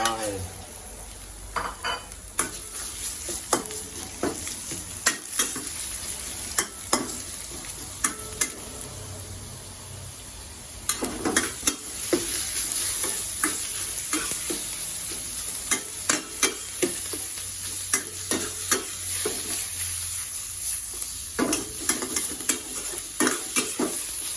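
Pork stir-frying in a pan for Thai basil fried rice, with steady sizzling and repeated scraping clacks of a utensil against the pan throughout, close and busy with no talking.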